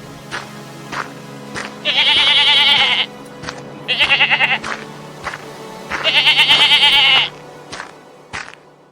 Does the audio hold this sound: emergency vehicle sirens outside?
no